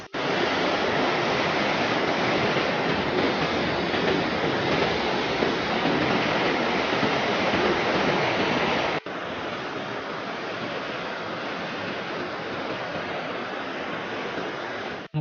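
Water rushing over the waterfall at Elora Gorge, heard from a bridge as a dense, loud, unbroken roar, dropping somewhat in level partway through but continuing steadily throughout.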